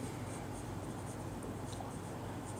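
Chalk or marker scratching on a board during a maths lecture on circles, a steady close scraping texture that runs without a break, with no talk over it.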